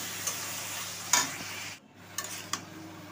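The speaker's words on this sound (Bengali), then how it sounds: "তেলের মধ্যে পেঁয়াজ, রসুন, টমেটো, কাঁচা লঙ্কা কুচি এগুলো সব ছেড়ে দিয়ে একটা নাড়াচাড়া করে আর কি কচুরলতিটা দিয়ে দেবো" Onion, garlic, tomato, chopped green chili and taro stolons sizzle in hot oil in a pan, with several quick stirring scrapes over the steady frying hiss.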